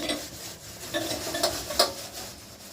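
Scrubbing a gas stove clean with a Vim dishwashing bar, a steady close rasping rub with a few brighter scraping strokes, no talking.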